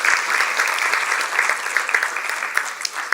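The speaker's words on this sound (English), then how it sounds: "let us give a big round of applause to all the alumni who are present here." An audience at a college pharmacy industry event applauds the alumni present, a steady, fairly loud wash of many hands clapping with no talk over it.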